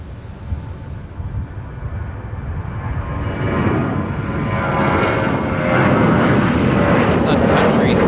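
A fixed-wing airliner roars down the runway on departure at Minneapolis–St. Paul Airport, a broad, loud engine rumble and whine that steadily builds over several seconds and stays strong to the end.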